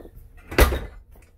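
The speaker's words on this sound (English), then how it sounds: "Then we have our door here, which shuts like so." An interior door inside an Entegra motorhome swings shut with a single short, close thud and latch click.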